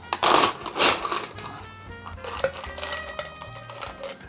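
Ice cubes tumbling and clinking into a Collins glass, two bright rattling bursts followed by lighter settling clinks, close and with no talk.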